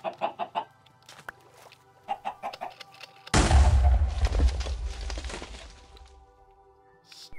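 Minecraft Crazy Craft chickens cluck in short bursts, then a sudden loud, dense blast of noise crashes in and slowly fades, with a few more clucks at the end.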